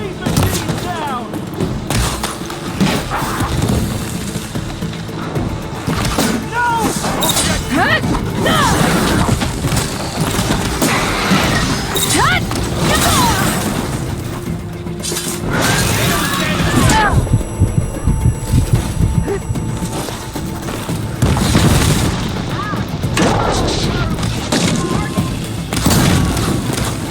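Battle with robotic machines in the video game Horizon Forbidden West, with dense continuous booms, crashes and impacts layered over game music, and voices shouting now and then.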